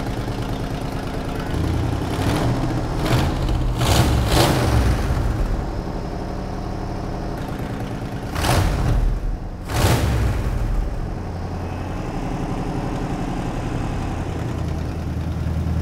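A 1987 Chevrolet Silverado square-body truck engine runs at a steady idle close by, its low rumble continuous throughout with a few sharper bursts partway through.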